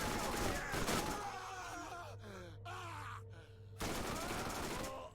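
A video game gun that fires four bullets per shot, with loud bursts of gunfire in rapid clusters up close and a player's voice groaning and talking between the volleys.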